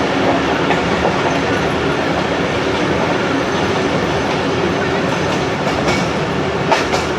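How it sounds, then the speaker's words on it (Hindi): The Pak Business Express approaches Landhi with a loud, continuous rumble and rattle of wheels on rails. The roar stays close and steady throughout, and no voices are heard. "ट्रेन अप्रोचिंग कर रही है लांडी"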